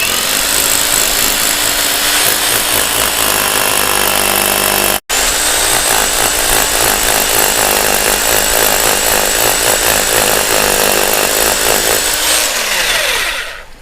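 An INGCO 1050 watt rotary hammer runs in hammering mode, a loud, close, continuous buzzing drone with a rapid pulsing texture, cutting out briefly once and then winding down at the end.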